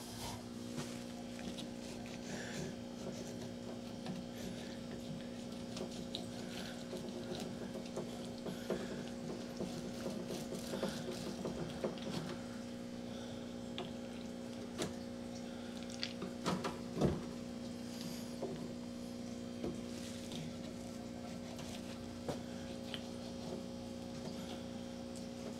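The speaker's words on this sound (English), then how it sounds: "then you put the frame in the extractor, and you need to kind of balance your extractor" A honey extractor spins frames of honeycomb with a steady mechanical hum that drones evenly throughout, with faint scattered clicks and knocks over the constant tone.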